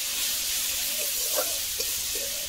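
Bitter brahmi greens fry in a pan with a constant close hiss and sizzle, and faint scraping as they are stirred.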